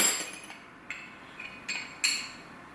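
Metal wrenches clink and clatter together in a sorting search for the right size during car AC line work, a few light, bright taps scattered over a couple of seconds, fairly faint.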